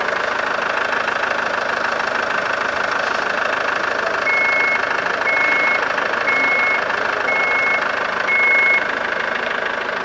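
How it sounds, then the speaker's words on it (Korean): A SsangYong Rexton Sports diesel pickup SUV engine idles steadily with a low, even, quiet rumble, while a reversing beeper chirps repeatedly in a regular rhythm nearby. "디젤 차량치고 엔진 소리 굉장히 정숙한 엔진 소리 들려주고 있고"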